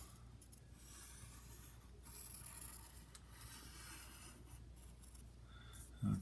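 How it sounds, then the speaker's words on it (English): Pen or pencil drawing triangles, a square and other shapes on paper, soft scratchy strokes rubbing close by in short bursts, quiet and alone with no talking. "Okay, there's a couple of triangles. I'll draw a square."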